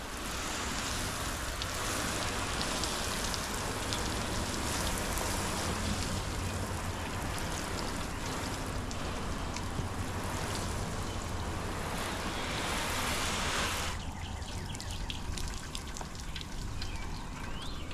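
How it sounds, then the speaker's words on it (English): A garden hose sprays water onto a car coated with Griot's Garage ceramic liquid wax, a loud, dense, continuous hiss of spray that cuts off sharply near the end, leaving quieter dripping. "Now let's see how well it beads from the hose."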